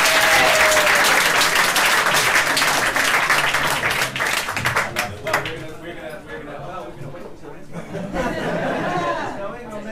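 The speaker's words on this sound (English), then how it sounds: "please put your hands together for Tony Appleton, the Royalist" Audience applause and cheering at a comedy night in a bar, loud dense clapping for the first half that thins into scattered claps with chatter and a few voices.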